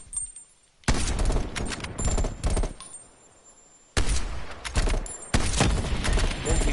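Rapid bursts of gunfire from the video game Call of Duty Black Ops Cold War, loud and close, in several volleys broken by short quieter pauses.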